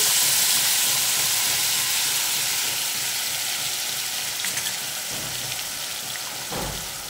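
Half a teaspoon of cumin and ground masala roasting in hot oil for tondli bhaji, a steady close sizzling hiss that slowly softens, with a few faint clinks near the end.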